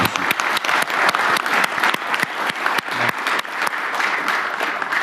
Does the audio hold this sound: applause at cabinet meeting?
yes